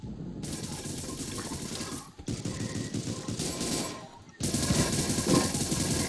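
Rapid explosive-bullet gunfire in a shooter video game, a dense, loud stream of bursts and blasts broken by two brief gaps and resuming heavier at the end, with no talking.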